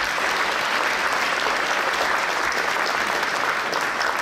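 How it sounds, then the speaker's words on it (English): Audience applause greets a choir walking on at an opening ceremony for a university American football championship, a steady, dense clapping that fills the whole stretch without pause. "Give them a round of applause."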